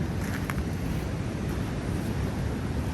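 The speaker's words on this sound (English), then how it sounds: "The waves are big." Big Pacific waves rolling in at Linda Mar Beach in Pacifica ahead of a storm, a continuous low roar of surf mixed with wind buffeting the microphone.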